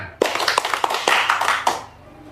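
An audience answers a prompt with a short burst of applause: sharp, irregular claps building quickly then fading out, fairly close and loud, with no talk over it.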